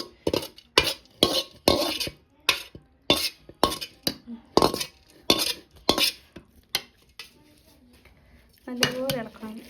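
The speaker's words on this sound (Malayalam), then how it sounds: "നല്ലതുപോലെ ഇളക്കണം." A spoon stirs a coconut mixture for Pesaha appam in a pot with about fifteen rhythmic, close scraping and clinking strokes against the metal, with some quieter shuffling between strokes.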